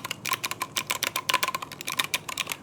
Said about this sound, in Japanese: キーの音はこんな感じ。